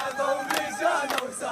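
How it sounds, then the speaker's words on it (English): Crowd of Palestinians singing together in a street in Khan Yunis, southern Gaza, celebrating news of a peace agreement; dense, mid-distance voices blend into a continuous chorus with bursts of louder cheering. "In Gaza this morning, singing, a sound not heard much in the past 2 years."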